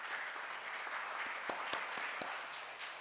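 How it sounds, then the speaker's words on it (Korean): A church congregation applauds to welcome a visiting mission organization's secretary general during a Sunday worship service, a steady, fairly distant wash of clapping with a few sharper individual claps standing out. "여러분 먼저 좀 박수로 환영해 주시고"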